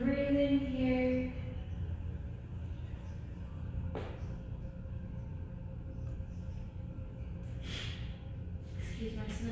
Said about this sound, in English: Excuse my sniffles again.